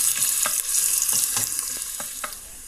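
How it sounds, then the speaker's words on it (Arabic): A large onion frying lightly in oil, with a continuous bright sizzle under a series of soft, irregular stirring taps and scrapes of a utensil in the pan, close and steady, without speech. "اخذ بصلة كبيرة وحدة واضيف لها الزيت، احمسه حمسة خفيفة"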